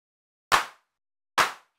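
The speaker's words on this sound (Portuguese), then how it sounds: "Então esse é o som da clap original." Original clap voice of the Brazilian ARA drum machine, two short sharp claps about a second apart, each a bright burst with a quick decay, isolated against silence.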